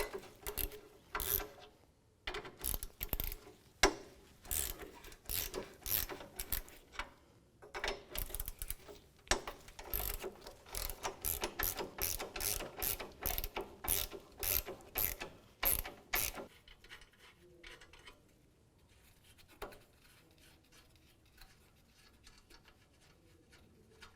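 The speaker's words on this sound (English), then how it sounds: "remove these 3 nuts from the front pipe to the manifold pipe. And that's a 14mm socket" Ratchet with a 14mm socket working the three front-pipe-to-manifold exhaust nuts on a 2005-2009 Subaru Outback, bursts of rapid close clicking with brief pauses, then quieter handling toward the end.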